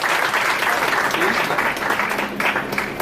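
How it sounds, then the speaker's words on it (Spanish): Dense, steady applause from a conference audience welcoming a guest speaker, a crowd of hands clapping continuously and fairly loud for the whole stretch. "vamos a recibir con un fuerte aplauso a nuestro invitado especial"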